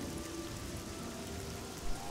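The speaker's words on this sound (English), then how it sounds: "Raining again?" Steady rain in the fantasy role-playing game Oblivion hisses as a dense, even wash of falling drops with no break, with a small soft thump near the end.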